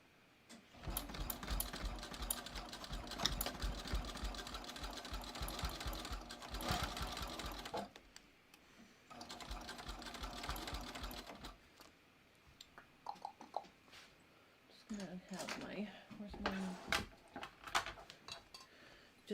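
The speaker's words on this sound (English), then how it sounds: "top stitch it in place." A sewing machine top stitches a clear vinyl project bag, running in long quick bursts with short pauses and faint clicks and handling noise between runs.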